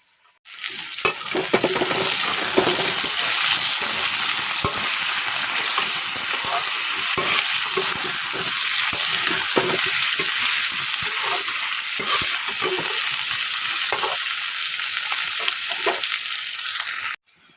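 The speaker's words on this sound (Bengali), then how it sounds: "হালকা করে অল্প তেলে আলু ফুলকপিটাকে একটু ভেজে নিলাম" Potato and cauliflower frying in a little oil produce a loud, continuous hiss and sizzle that holds steady for the whole stretch, with faint stirring clatter underneath, and then cuts off abruptly at the end.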